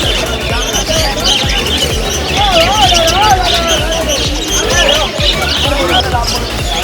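Pet birds, including lovebirds, chirp and squawk in cages at a busy pet market, with scattered tweets and whistles over a steady din of crowd chatter and a nearby voice.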